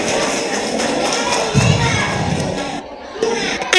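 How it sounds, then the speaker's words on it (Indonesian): An audience of parents at a Qur'an-completion celebration for TPQ Arafah children claps and cheers, a busy wash of applause with children's shouts and thumps, swelling midway and briefly dipping near the end. "Berikan tepuk tangan bunda-bunda, ayah kepada santri-santri TPA Arafah."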